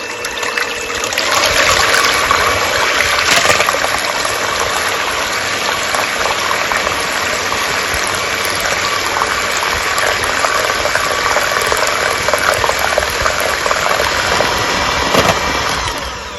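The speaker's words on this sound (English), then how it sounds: "Now we're going to blend these eggs for 5 to 10 minutes on high" A blender runs on high power, whipping eggs for a coconut custard. It makes a loud, continuous whirring roar with a wet churning texture that stays steady throughout, with no voices.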